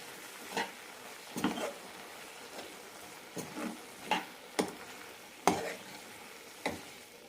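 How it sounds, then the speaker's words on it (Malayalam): Stirring ground coconut paste into kalan, a Kerala yogurt curry cooked for an Onam sadhya, in a pan: intermittent spoon scrapes and soft clacks against the vessel over a low steady simmer, with no talking. "ഇനി ഇതിലേക്ക് അരപ്പിടാം നന്നായി മിക്സ് ചെയ്യാം"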